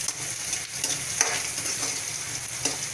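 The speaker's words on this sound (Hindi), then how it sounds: "ये हमारा प्याज फ्राई हो रहा है" Onions fry in a pan for ridge gourd curry, giving a steady close sizzle with faint stirring scrapes throughout and no talk.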